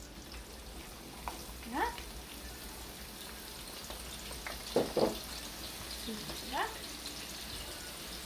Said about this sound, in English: Now we're going to fry our onions.